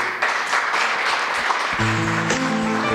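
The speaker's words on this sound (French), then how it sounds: "Vos applaudissements s'il vous plaît." An audience applauds at a live show with a steady, dense wash of clapping throughout, and musical tones enter toward the end.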